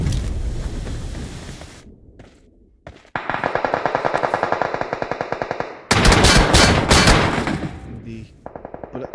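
Rapid bursts of automatic gunfire from a Clatter of Clans esports grand final match, loud and dense, with repeated volleys and sharp single shots stacked over game noise.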